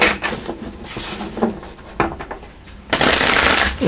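A tarot deck is shuffled by hand up close, with loose papery slides and riffles and a louder, denser flurry of card noise near the end. No one speaks.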